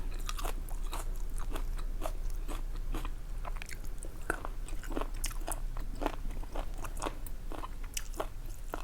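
Close chewing of crunchy beef and liver eaten with fresh vegetables, a steady run of sharp crisp bites and crunches repeating several times a second.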